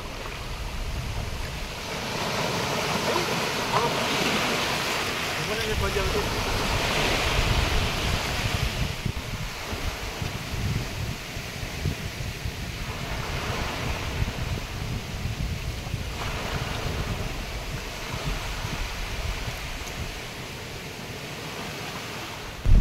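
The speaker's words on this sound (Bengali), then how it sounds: "বেলা যত বাড়ছে ততই কিন্তু নদীর জলও বৃদ্ধি হচ্ছে, সেই সাথে সাথে ঝড়ের গতিবেগও বাড়ছে।" Waves on a river mouth in the Sundarbans, lashed by strong wind during Cyclone Remal, making a continuous broadband roar of surf and gusting air that swells and eases, loud and close with no voices.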